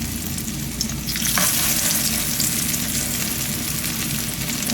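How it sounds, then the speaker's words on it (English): Spoonful of squash patty batter frying in hot grease, a dense, steady, loud crackling sizzle that swells slightly as the batter drops in, close up with no voices. "Just drop it in that grease."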